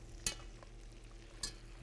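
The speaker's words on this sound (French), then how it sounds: "je commence à arroser mon homard" Lobster basted with butter in a hot pan, a soft continuous sizzle at low level with two brief louder splashes as hot butter is spooned over.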